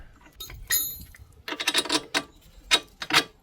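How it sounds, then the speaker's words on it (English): Top strut bolt being tightened on a 2500 2WD Sprinter van during a sway-control kit install, heard as bursts of quick metallic ratcheting clicks, close and moderately loud, with short pauses between runs. "Get our top bolt in next."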